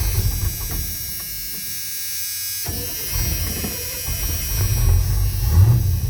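A 1987 GMC truck engine, started with pliers in place of a key, cranks and catches with a buzzy rattle. It then runs with a rough, near, steady rumble that swells slightly toward the end.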